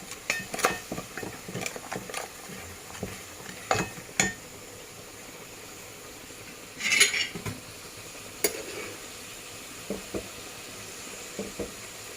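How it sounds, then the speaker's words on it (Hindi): A spoon scrapes and clinks against a pan while spices cook on a slow flame for cheese pasta, with irregular metallic taps and stirring strokes over a faint steady sizzle. "आपको ये सब मसाले स्लो फ्लेम पे रख के पकाने हैं।"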